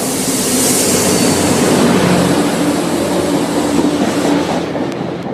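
Train pulling into Westwood station, a loud, close, steady rumble with rail rattle that fills the scene throughout and eases slightly at the end, with no voices.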